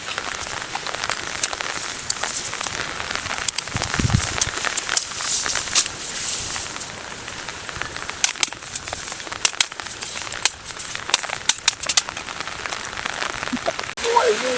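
Heavy rain pours down at a cattle farm, a constant close hiss of drops hitting surfaces with scattered louder splats, unbroken from start to finish.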